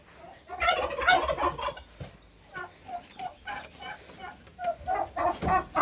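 Farmyard turkeys, a male with three hens, gobble repeatedly in close, loud, bubbling bursts that come in uneven runs with short pauses between, and no talking.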